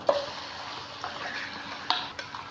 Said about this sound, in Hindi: आधा कप ऑयल गर्म होने रखा था, ऑयल गर्म हो चुका है। इसमें मैं डालूँगी ये मटन का गोश्त।